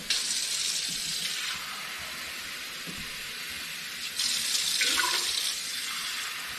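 Water running from a kitchen tap into a measuring cup while making Mexican rice, a steady hissing flow at low level that shifts in pitch and strength as the stream fills the container.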